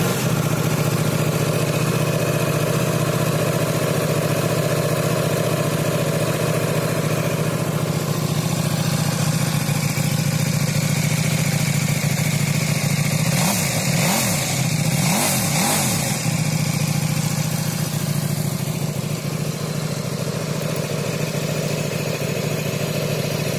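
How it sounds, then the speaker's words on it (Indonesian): A KTM RC8R motorcycle with a 75-degree V-twin engine runs at a steady idle, a loud continuous low throb with a couple of short throttle blips near the middle. "Beginilah bunyi dari mesin V-twin 75 derajat"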